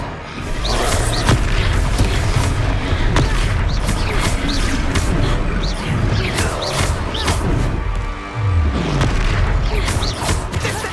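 Expelliarmus cast in the Hogwarts game during a boss duel, heard as a loud booming magical blast with whooshes and crashing impacts amid continuous battle noise.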